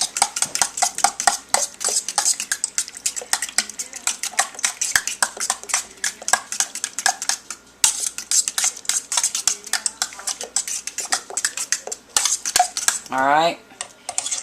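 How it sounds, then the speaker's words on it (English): A fork stirs a yogurt ice cream mixture in a bowl, giving rapid, continuous metallic clinks and scrapes against the dish, close and fairly loud, with a short pause midway. "we'll once again use the fork to mix it up so that we can get it all"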